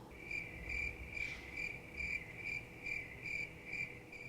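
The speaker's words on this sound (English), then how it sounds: "Crickets?" A sound effect of crickets chirping, with a steady train of short, shrill chirp bursts repeating about twice a second. The chirping is quiet and even, over a faint background hiss, with no voices.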